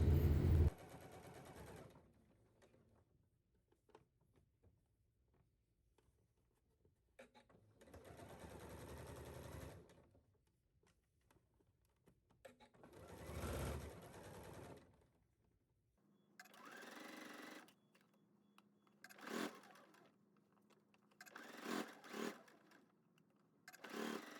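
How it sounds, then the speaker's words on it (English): A home sewing machine understitches and bastes a shirt collar in several short runs, each a whirring burst of a few seconds separated by quiet pauses, with quicker stuttering bursts toward the end; close, no talk. "And then we are going to understitch the interface side, and then we're going to baste the collar opening closed."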